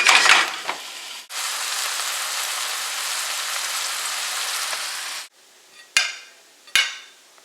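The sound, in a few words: cattails sizzling in butter in a pan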